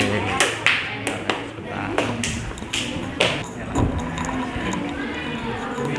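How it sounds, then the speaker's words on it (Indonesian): Applause for a student group in a sociology class session, heard as a few seconds of scattered, fairly close hand claps with some irregular taps and thumps. "tepuk tangan untuk kelompok Ayam Semur"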